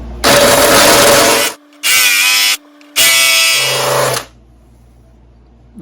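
A cordless drill fitted with a rounding bit works a stuck bolt in three loud, high-pitched whirring bursts separated by short pauses, then winds down to a faint tail.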